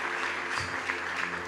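An Ethiopian church congregation claps during a pastor's service, a dense, continuous wash of applause filling the room without pause.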